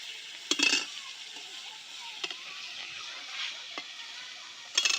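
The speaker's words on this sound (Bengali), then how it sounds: "মাছগুলো ভেজে নিব।" Small fish coated in turmeric and salt frying in oil with garlic paste in a wok, a soft steady sizzle with a few louder spatters and scraping stirs.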